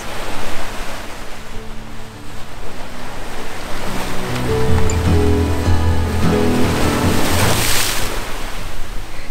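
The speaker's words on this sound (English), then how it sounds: "Amazing day here at Cape Breton Highlands on the beach." Surf rolls steadily onto a beach at Cape Breton Highlands, a loud, continuous wash of breaking waves up close with some wind buffeting the microphone and no talk.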